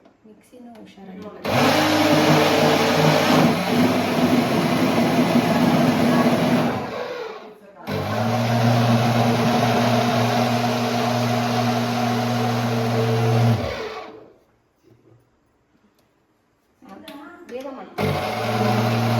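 A kitchen mixer grinder whirs loudly in two long bursts of about six seconds each, separated by a short pause, then cuts out before a brief restart; a voice speaks briefly over it.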